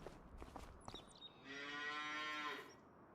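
Cows mooing in the Farming Simulator 25 video game: a long, loud, drawn-out moo that rises and holds after a few faint footsteps, with no talking.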